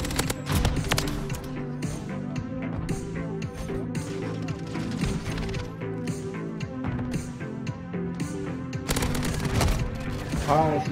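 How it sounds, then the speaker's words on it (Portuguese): Point-blank gunfire in an online shooter game, with dense bursts of shots, booms and clattering effects layered over busy game sounds for the whole stretch, loud and continuous. "esse Diogo tá dando uns tiros de queima-roupa"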